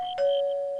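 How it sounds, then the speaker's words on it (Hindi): A doorbell rings once, a clear steady electronic chime tone that starts sharply and holds, close and alone with no voices. "उसी समय बाहर डोरबेल की आवाज सुनाई दी।"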